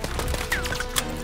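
Rapid bursts of gunfire crack through a World War II battle in Call of Duty: WW2, sharp repeated shots layered over dense, continuous combat noise with no talk.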